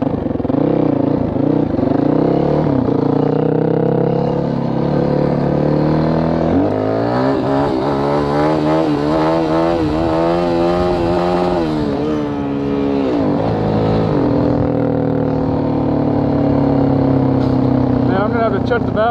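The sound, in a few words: Yamaha WR450F dirt bike engine revving on rev limiter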